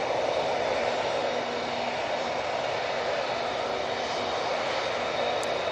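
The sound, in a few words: Emirates A380 airliner at Manchester Airport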